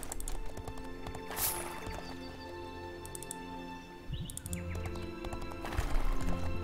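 Horse hooves clip-clop steadily as a party rides out in the Might and Magic V video game, a looping game effect with a faint whinny over layered synthesized background music, no talk heard.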